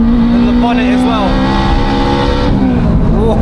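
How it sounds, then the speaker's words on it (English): 500bhp big-turbo Honda Civic Type R with a screamer pipe pulling hard in third gear on a motorway, loud continuous engine roar with rising pitch and turbo noise, people talking over it. "Third gear. Jeez, got the screamer and the bonnet as well."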